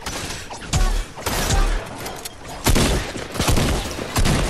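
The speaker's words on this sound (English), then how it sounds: "This guy is panic shooting." Gunfire in the Fortnite video game: several bursts of rapid shots and booming impacts, loud and dense, with short quieter gaps between volleys and no talk.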